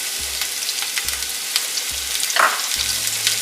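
Chopped onions fry in refined oil in a large pot, a steady broadband sizzle with low thuds from the spoon against the pot recurring about once a second.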